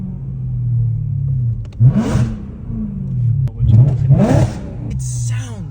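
A BMW M3 idles with a low burble, then two sharp revs rise and fall a couple of seconds apart, close and loud.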